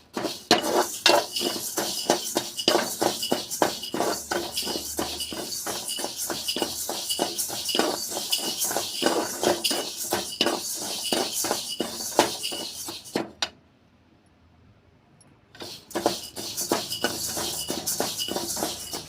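Lentils being stirred as they dry-roast in a pan for healthy laddu, a fast run of scraping, clinking strokes close by that stops for about two seconds before resuming.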